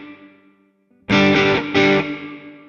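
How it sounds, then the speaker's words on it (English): Electric guitar on a clean amp tone through a multi-effects processor built into the guitar, two loud strummed chords ringing out with a reverb tail after a quiet stretch. "I'm gonna turn a little bit of reverb on."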